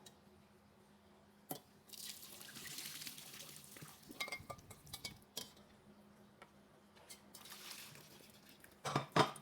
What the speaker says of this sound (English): So our pasta is done, it's cooked, so we need to drain the water guys